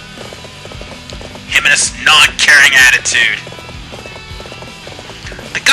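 A horse gallops in Dynasty Warriors 7, a steady rhythmic clip-clop of hooves running throughout, with a louder burst of clashing and shouting in the middle and someone talking over it.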